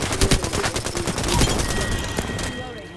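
Rapid automatic gunfire in the Apex Legends video game crackles in a dense, loud burst of closely spaced shots that gradually thins out, with a sharp ringing tone near the end.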